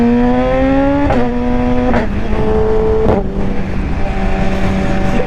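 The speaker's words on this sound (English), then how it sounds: "I love the quick shifter sound whenever you flip it" BMW S1000 motorcycle engine revs loud and close, climbing through gears with a quick shifter, giving crisp cuts in pitch at each upshift roughly once a second over a steady rumble.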